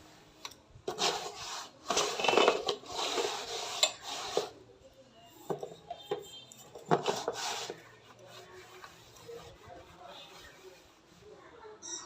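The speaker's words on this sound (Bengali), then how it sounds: "প্যানটা মুছে" A cloth rubs a cooking pan clean before storage, giving bursts of rough scraping and wiping strokes, some louder and longer, separated by quieter pauses, close up.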